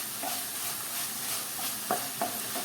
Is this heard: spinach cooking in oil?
yes